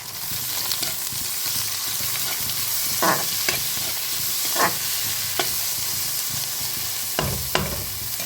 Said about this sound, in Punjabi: ਇੱਧਰ ਪਿਆਜ਼ ਥੋੜਾ ਭੁੰਨ ਚੁੱਕਿਆ ਹੈ ਤੇ ਹੁਣ ਆਪਾਂ ਇਹਦੇ ਵਿੱਚ ਟਮਾਟਰ ਐਡ ਕਰਾਂਗੇ